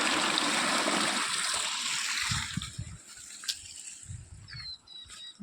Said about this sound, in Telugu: ఇప్పుడు తక్కువ నీళ్ళు పోతున్నాయి